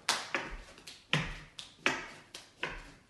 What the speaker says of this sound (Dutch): 10 keer klappen.